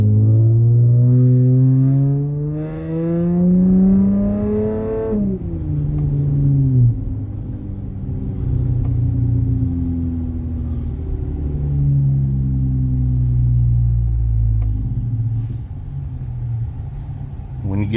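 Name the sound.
car exhaust with MagnaFlow mufflers revving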